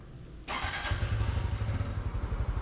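A food delivery motorcycle engine starts with a thump and settles into a close, steady, rumbling idle that pulses for about two seconds.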